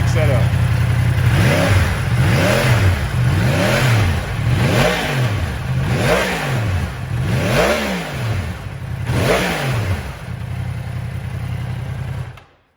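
A Yamaha R1 sport motorcycle on its stock exhaust revs repeatedly to about 9,000 RPM in a garage, loud rising and falling engine sweeps in a steady rhythm over an idle, then cut off at the end.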